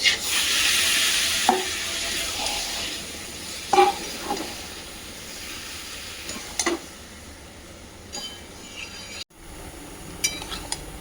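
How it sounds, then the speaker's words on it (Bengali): Bengali spice paste (masala) for labra fries and gets stirred in a pan: a loud hissing sizzle with occasional spatula clinks and scrapes, easing to a quieter simmer, with no talking. "এখানে মশলাটা ভালোভাবে কষে নিচ্ছি"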